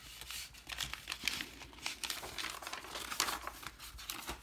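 Crinkly paper from old school map books is handled up close, giving a continuous rustling crackle with quick crisp crumples and sharper snaps scattered throughout.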